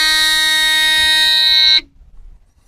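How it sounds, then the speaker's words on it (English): A truck's dashboard warning buzzer sounds as the ignition key is turned on, one steady, loud, shrill electronic tone lasting nearly two seconds before cutting off abruptly into quiet. "I'm going to wait till that warning buzzer comes off."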